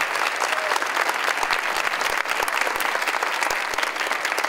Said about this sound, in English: I want to congratulate first with a big round of applause for our 24 champions.